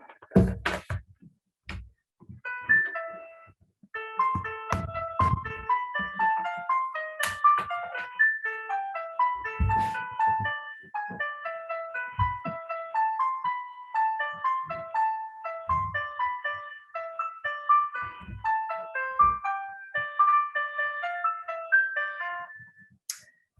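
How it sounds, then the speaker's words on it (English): Music generated on the fly by an AI model from an uploaded picture, a bright, chiming melody of plinking notes that plays steadily, with a few knocks and clatters scattered through it. "this music was created on the fly"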